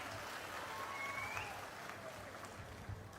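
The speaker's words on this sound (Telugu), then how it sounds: "బాగున్నాయంటే చప్పట్లు కూడా చెప్పండి బాగున్నాయని." An audience at a political speech by the state chief minister claps in faint, distant, steady applause, a soft crackling wash lasting a few seconds.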